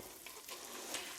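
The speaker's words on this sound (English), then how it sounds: "So I add a little bit at a time, stir it, then I'll add a little more" Butter being stirred into bubbling salted caramel in a pan gives a steady close sizzle and faint stirring scrape throughout, with a brief brighter tick near the end.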